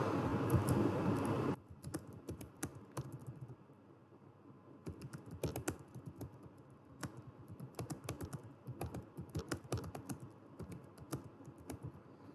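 Steady, rapid clicking of keys on a computer keyboard as a line of text is typed, close and moderately quiet, with short pauses between bursts and a dull hum at the start.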